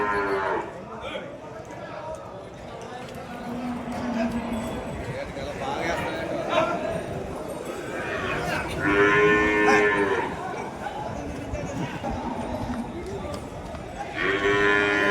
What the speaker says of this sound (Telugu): ఎద్దులు